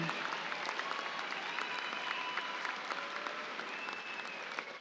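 A commencement audience applauds master's degree graduates of West Texas A&M University, a steady, even stretch of clapping from a large seated crowd heard somewhat distantly, with a few voices mixed in.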